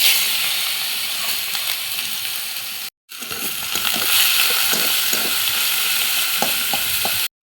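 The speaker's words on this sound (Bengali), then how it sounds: "পটলের দানা সেইগুলো দিয়ে দেবো।" Pointed gourd seeds hit hot oil in a wok with a loud, continuous sizzle and hiss, broken briefly by one dropout, while a utensil stirs with repeated scraping clicks.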